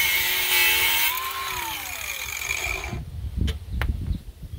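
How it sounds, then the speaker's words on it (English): A power tool cuts off the protruding tips of bolts on a Jeep Cherokee XJ rear end during a lift install, a sustained whining grind that slides in pitch and then gives way to rough clattering bursts near the end. "I'm just going to go ahead and lop off the tips of these bolts right here because they're just superfluous"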